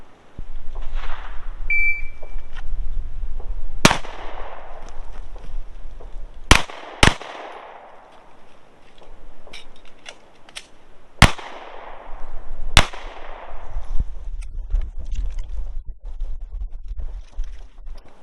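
Pistol shots fired on a shooting range during a timed drill: about five sharp, loud cracks spaced a few seconds apart, the later ones coming in uneven pairs and singles, over outdoor wind rumble.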